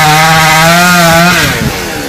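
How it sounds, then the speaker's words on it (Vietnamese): A chainsaw cuts a long branch high in a rain tree, its engine roaring loud and close at a steady pitch before dropping away as the cut ends. "Cường leo lên phần nhánh phía trên để cưa."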